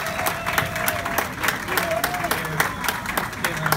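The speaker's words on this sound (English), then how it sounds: "Give them a round of applause as they make their way up." Audience applause at a live talk, as volunteers head up on stage for a blindfolded Rubik's Cube solve: a dense, moderately loud crowd clapping with a few brief voices mixed in.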